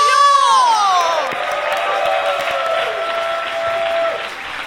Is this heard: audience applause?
yes